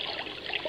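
A baby white noise machine plays its sea setting, a soft, steady watery wash with faint trickling texture, quiet and close, heard alone for a brief moment.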